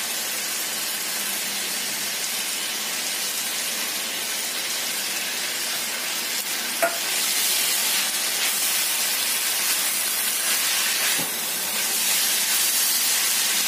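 Carrot and cabbage frying in a pan for Javanese fried noodles, a steady, loud hiss of sizzling that holds throughout and swells slightly partway, with no talk.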